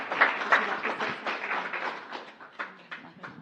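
Modest audience applause at a city council meeting, a scattered patter of clapping from a small room that swells and thins unevenly, with a few sharper individual claps standing out.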